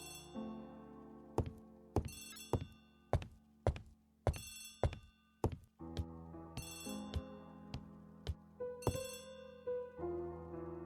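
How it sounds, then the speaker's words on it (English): An old-fashioned telephone bell rings repeatedly in a 1930s-style Agatha Christie mystery game set in Poirot's rooms, sharp metallic rings in an irregular series of bursts alongside soft thunks and music. "Poirot, the telephone."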